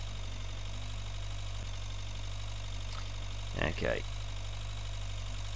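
A tractor in the video game Agricultural Simulator 2013 drones at a steady low idle throughout, with someone speaking briefly over it.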